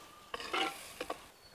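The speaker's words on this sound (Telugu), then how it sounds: "నూనెలో చిన్న మంట పెట్టుకొని వేపుకుందాం." Egg pieces fry gently in oil over a low flame. A few soft scraping stirs and clinks of a utensil in the pan sound quietly over a faint background, with no voices.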